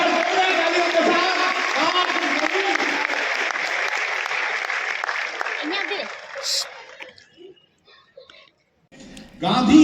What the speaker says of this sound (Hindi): जरा जोरदार तालियों के साथ